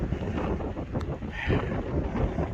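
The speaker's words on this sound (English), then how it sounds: "It's windy as heck" Steady wind buffeting a microphone outdoors on the Appalachian Trail, a loud, continuous rumbling roar with gusty swells and no talking.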